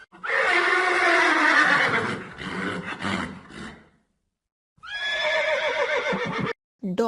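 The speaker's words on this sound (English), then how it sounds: "Horse. The horse is a domesticated." A horse neighs loudly and close, a long shrill whinny followed by shorter snorting calls, a pause of silence, then another whinny, standing alone without talk.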